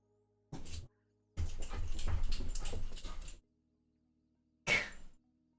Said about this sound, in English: Is Cora barking?